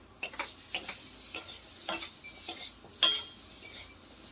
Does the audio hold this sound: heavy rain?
no